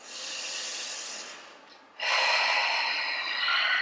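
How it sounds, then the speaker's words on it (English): Deep breathing during a hip-flexor stretch: a long, close hissing breath that fades, then a sharper, louder breath drawn in and held, with no talking. "Take a last breath here."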